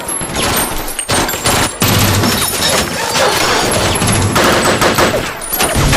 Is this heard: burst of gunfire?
yes